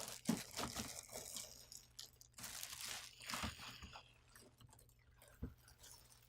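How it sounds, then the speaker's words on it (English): Printer slid out of a plastic bag during unboxing, giving crinkly plastic rustles and crunches in irregular bursts, fairly quiet and close, with no talk. "Now we can slide the printer out of the plastic bag."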